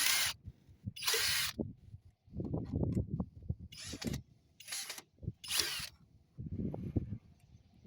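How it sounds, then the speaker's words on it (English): Remaining screws are removed with a ratchet tool: several bursts of rapid, close clicking ratchet strokes alternate with softer mechanical rattles and short pauses. "gonna remove the two screws that were remaining in there"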